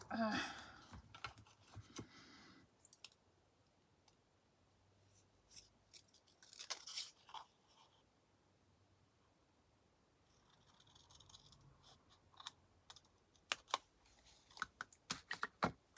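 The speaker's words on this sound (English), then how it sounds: "I'm going to cut it in half like this." Scissors cutting a paper folio in half, giving scattered crisp snips and rustles in short bursts with quiet gaps between them, heard close up.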